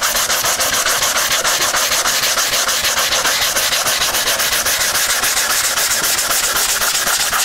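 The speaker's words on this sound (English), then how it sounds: "I figured I'd record through the sanding so you know approximately how long it takes to sand out a wing" A balsa wing for a Sig Kougar model airplane is hand-sanded in steady, rapid back-and-forth strokes, a continuous close rasping scrape that stays even for several seconds with no talking.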